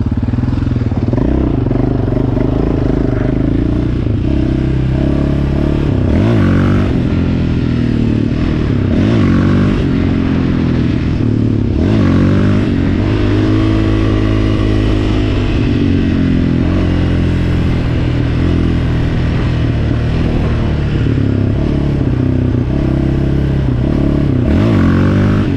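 A loud, continuous quad bike engine revving and surging in second gear throughout, with rising and falling pitch as the throttle opens, close up and steady, with some mechanical clatter.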